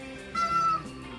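A cat lets out one short, fairly loud meow, close by, with nothing else over it.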